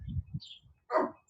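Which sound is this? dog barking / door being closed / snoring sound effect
dog barking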